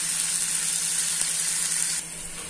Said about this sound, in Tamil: தக்காளி நல்லா குழைய வதக்கணும்.